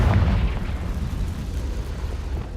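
In the video game Hogwarts Legacy, a Confringo spell goes off as a single loud, deep explosion that bursts at once and then rolls away into a fading low rumble.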